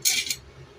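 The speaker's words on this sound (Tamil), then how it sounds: "மூடி போட்டு வச்சுக்கலாம்" A short metallic clatter as a lid is set onto a pot of fish curry, two quick clinks, then quiet.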